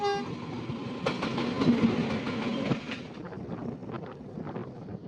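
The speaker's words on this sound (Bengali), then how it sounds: "সেই নীলগিরি মাউন্টেন টয় ট্রেন" Nilgiri Mountain toy train running toward Mettupalayam, a loud horn blast at the start over the rumble and clatter of rail cars passing close by, fading to a steadier rolling noise.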